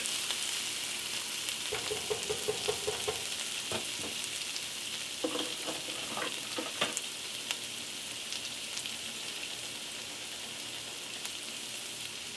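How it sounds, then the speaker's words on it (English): Brazilian moqueca fish stew sizzling in a pot, a soft continuous frying hiss with a few bursts of spoon clinks and scraping as it is stirred, then quieter bubbling. "give this another stir real quick"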